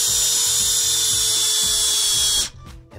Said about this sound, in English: take a drill with no drill bit, insert your wire into the drill so it's nice and tight and close